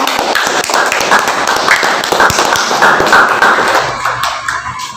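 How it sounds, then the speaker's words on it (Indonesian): Classroom group of students clapping for group 2, a dense burst of many hands clapping loudly together before fading out near the end. "tepuk tangan untuk kelompok 2 yang sudah"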